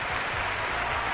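Dense clapping from a small group of hands at a card game session, a steady close burst of applause throughout the brief moment.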